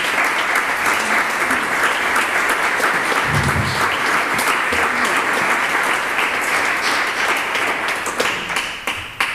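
Concert audience applauding a percussion and keyboard player of a Sephardic music ensemble, dense steady clapping throughout at close range, thinning slightly near the end.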